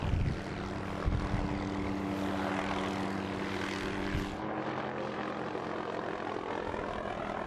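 Greenpeace reconnaissance helicopter flies far offshore, a steady droning rotor and engine hum with a throbbing low tone that holds constant and slightly shifts midway.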